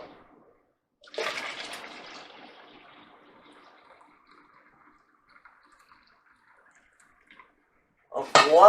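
Hot water at 180 degrees poured over stevia leaves in a bowl: a close splashing rush that fades into a soft trickle, followed by a brief clatter at the end.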